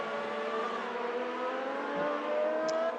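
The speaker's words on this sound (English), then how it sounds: "Look at the power of that Lotus Renault, man." Lotus Renault Formula One car from the 1984 season racing at the Italian Grand Prix in a racing video game, its engine a steady high-pitched whine held near and loud, with other cars droning underneath throughout.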